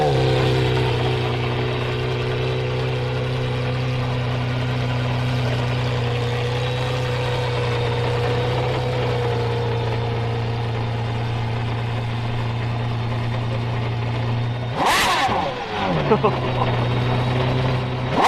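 A loud Aston Martin sports car engine idles with a deep, steady rumble, then briefly revs sharply before settling back to idle.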